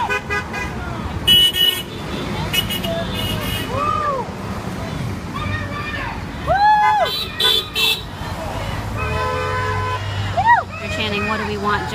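Busy street traffic at a protest rally, cars rolling past with several short horn toots at intervals and a crowd murmuring in the background.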